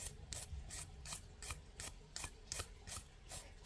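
Brush sweeping excess dip powder off a gel-method nail, a series of about a dozen soft quick swishing strokes in a steady rhythm, close but faint, with no talking.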